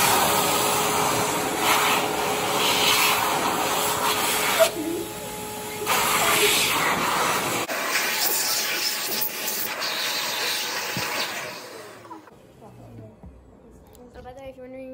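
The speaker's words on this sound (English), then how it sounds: "let me show y'all this hand dryer because I've never seen it" A loud, steady blowing roar of an electric hand dryer runs for several seconds, briefly cutting out, then stopping and fading into quiet room noise.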